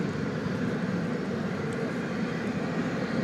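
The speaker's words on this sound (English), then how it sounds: "Touching down from Luxembourg after a 9-hour and 30-minute flight." A jet airliner touches down at DFW Airport at night after a long flight from Luxembourg, its engines a loud, steady, broad roar that holds unbroken from start to finish.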